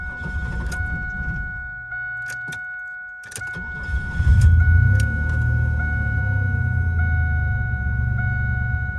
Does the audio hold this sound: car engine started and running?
yes